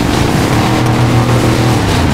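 Off-road car engine straining at full throttle while climbing a slippery grassy mountain hill, a loud, steady, droning roar held close throughout without letup.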